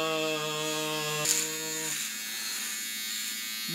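An electric razor buzzes steadily, close and fairly loud as it shaves off a beard, its hum dipping in pitch partway through as it presses against the hair.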